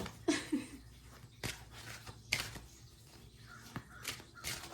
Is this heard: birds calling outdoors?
yes